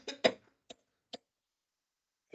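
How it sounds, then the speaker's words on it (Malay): A single person coughing during a market trading talk: one throaty burst with a couple of quick follow-up coughs, then short, faint catches spaced out by silence. "Terbatuk dah."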